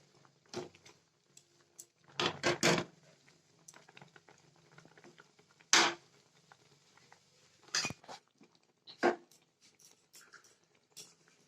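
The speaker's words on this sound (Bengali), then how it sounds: "এইভাবে ভালোভাবে রসের মধ্যে এটাকে ফুটিয়ে নিলে পিঠাটাও নরম তুলতুলে হবে আর এই ক্ষীরটাও বেশ ঘন হয়ে আসবে" Barfi pitha simmers in sweet milk syrup, giving scattered soft bubbling pops and a few louder gurgles over near silence, heard close by.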